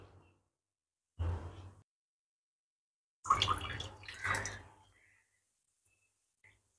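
Water from salted cabbage and carrot being drained off, heard as a few short splashing pours, a brief one first and then a longer gushing burst, separated by silence, close and fairly quiet.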